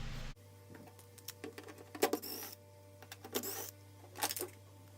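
Two screws are undone on the front panel of a GE front-load washer, with short squeaky turning bursts and small clicks over a steady low appliance hum, close and fairly quiet.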